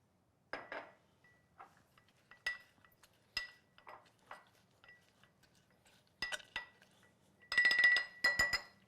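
Ingredients muddled in a glass for a drink, a series of close, sharp clinks and knocks, sparse at first and then a dense burst of rapid taps near the end, with no talking.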